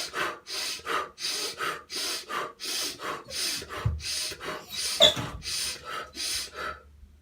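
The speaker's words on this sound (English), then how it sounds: "First, you do your breathing. 1 long inhale, 2 short exhales." Nauli yoga breathing, with strong rhythmic breaths drawn in and pushed out in a steady pattern of long inhales and short sharp exhales, close and loud throughout with no talking.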